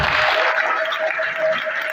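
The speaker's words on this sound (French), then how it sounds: "Est-ce qu'on peut applaudir tout ça?" An audience applauds at the closing of a seminar in Butembo, with steady, even clapping from a crowd that fills the room.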